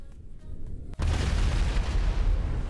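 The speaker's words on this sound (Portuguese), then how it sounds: "Explodiu tudo." A meteor explosion in the GTA 5 video game goes off as a sudden loud boom, then a sustained roaring rumble of blast and debris carries on after a quieter stretch of game ambience.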